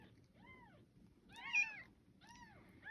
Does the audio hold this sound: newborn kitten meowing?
yes